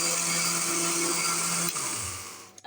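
A kitchen blender grinds ginger into powder, giving a loud, steady, close motor whir that runs throughout and winds down abruptly at the end with a brief clunk.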